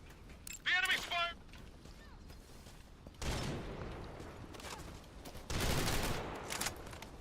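Enemy gunfire in the video game Metal Gear Solid, with bursts of shots around the middle and toward the end over steady background noise, and a brief voice near the start.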